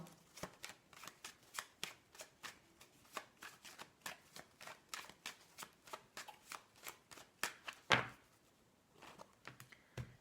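Tarot cards being shuffled for a reading: a steady run of crisp, close riffles and slaps repeating about every half second, with one sharper card snap near the end.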